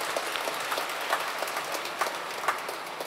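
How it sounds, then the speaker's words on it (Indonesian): Applause from a church congregation at a Sunday Mass, honoring the young people: faint, fairly sparse clapping heard at a distance, with a few louder individual claps standing out. "Ya, tepuk tangan."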